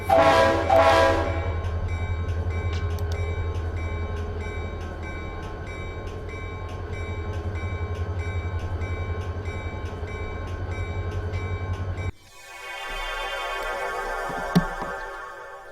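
A freight train in the Run8 simulator rumbles steadily with a low engine drone, a long sustained horn blast sounding over it, then the sound cuts to a harsher, brighter rumble near the end.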